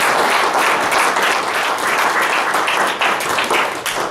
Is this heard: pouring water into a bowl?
no